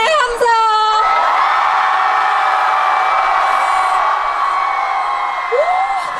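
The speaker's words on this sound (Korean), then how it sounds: "제가 동아대 하면 소리 크게 질러주시는 거예요" Festival crowd at Dong-A University in Korea loudly cheering, whooping and shouting in a sustained roar, with a few sharp yells rising above it.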